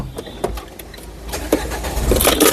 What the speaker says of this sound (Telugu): ఈ కార్ని స్టార్ట్ చేయాలంటే పుష్ స్టార్ట్ బటన్తో స్టార్ట్ చేయాల్సి ఉంటుందండి